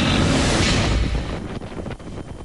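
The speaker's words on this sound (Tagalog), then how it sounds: "binayo ng malakas na hangin ang mga kable ng kuryente sa pier" Strong typhoon gusts of wind on the coast of Bacolod City, Negros Occidental, buffet the microphone, a loud rushing roar that eases slightly toward the end.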